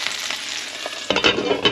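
Duck burgers sizzle on a hot griddle with a bright, crackling hiss of frying fat that flares into louder spitting pops toward the end, close and without any talking.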